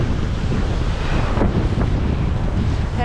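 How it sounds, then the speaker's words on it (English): Strong wind buffets the microphone with a roaring rumble, blended with the wash of surf at the seashore at low tide, steady and loud for a few seconds. "It is windy, but it is at least low tide"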